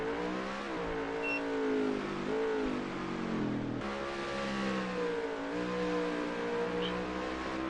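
A race car engine in a Watkins Glen racing video game revs loudly and continuously, its pitch climbing and dropping through gear shifts as the car accelerates, with no voices.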